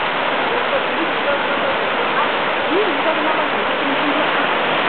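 Waterfall pouring down a river, a steady loud broadband rush with no breaks, while a voice talks faintly underneath.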